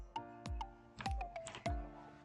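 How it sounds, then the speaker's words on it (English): Keys pressed on a computer keyboard, heard close up as a quick series of about eight sharp, distinct clicks at an uneven rhythm in a quiet room. "press Windows plus I button from your keyboard"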